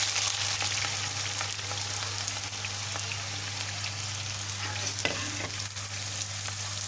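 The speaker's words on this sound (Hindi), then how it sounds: "अब हम इसमें प्याज डाल के इनको कर लेंगे फ्राई" Onions frying in two cups of hot ghee make a dense, continuous sizzle and hiss, loud and unbroken throughout, over a low steady hum.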